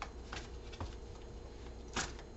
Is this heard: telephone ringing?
no